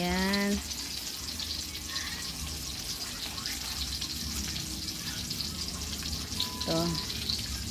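Hotdogs fry in a pan for a Filipino breakfast, making a steady, close sizzle that runs the whole time, with brief clinks and faint tones near the start and end.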